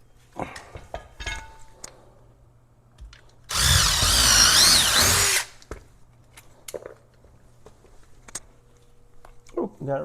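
A power drill runs for about two seconds while drilling a lat pull-down attachment hanger, loud and close, with shorter clicks, taps and handling noises before and after.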